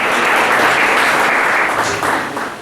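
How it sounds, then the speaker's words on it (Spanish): A crowd applauding steadily, dense and loud, fading slightly toward the end. "denle un aplauso a Zoe, por favor."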